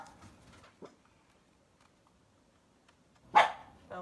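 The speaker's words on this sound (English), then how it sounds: "my guard dog here" A pet guard dog barks indoors: a soft bark near the start, then one loud, close bark near the end, with quiet in between.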